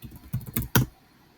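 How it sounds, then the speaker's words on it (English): Several quick clusters of keystrokes on a computer keyboard, close and fairly loud, with short pauses between bursts and no talking. "type this one in"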